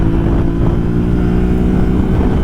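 A 2024 Yamaha Ténéré 700 A2 motorcycle engine, the same engine as the MT-07, runs with a steady, loud, low rumble that keeps up without pause, close by and with no talking.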